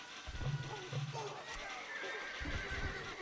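Horses neighing amid hoof clatter in the Stronghold Crusader battle game, where mounted horse archers fight heavy camels; whinnies come in bursts over a busy battlefield din.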